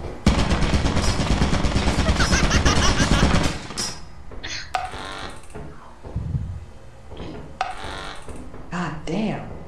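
Rapid mechanical machine-gun bursts from an automated turret in Lethal Company, loud rattling fire for several seconds, then quieter clanks and scattered shots with voices talking briefly.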